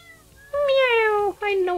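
A cat in the video game Animal Shelter gives a loud, drawn-out meow followed by a shorter second meow, close and clear.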